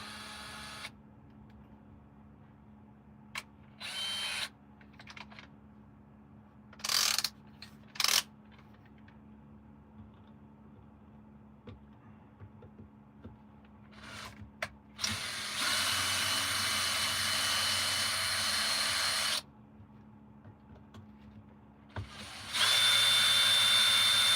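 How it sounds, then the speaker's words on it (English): A power drill used for work on a radio-controlled truck whirs in several short bursts, then runs in two longer, louder stretches, separated by quiet pauses with no talking. "I'll put this in my drill"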